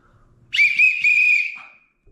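A single shrill whistle blast, sharp onset, held for about a second before fading out, loud and close.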